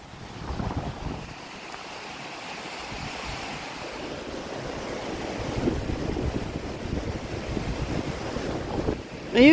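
Strong wind blows beside a flooded river, a loud, steady roar buffeting the microphone and swelling slightly toward the end, with rushing water blended underneath.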